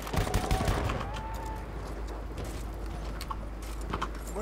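Machine gun fire in the video game Battlefield 1, from a support weapon with a 100-round magazine: a dense, rapid burst of shots up front, then lighter scattered gunfire and rumble continuing through the clip.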